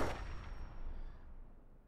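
A single heavy gunshot in Fallout 4 fired at a turret in the Atom Cats Garage, cracking loud and close and then decaying into a rumbling tail that fades over about two seconds.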